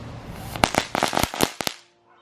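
A small grenade-type firework bursts on the floor in a quick string of sharp, loud cracks and pops over about a second, ending in a brief fizzing tail, close by with no talk.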